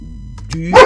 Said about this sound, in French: Ça, c'est mon chien qui aboie.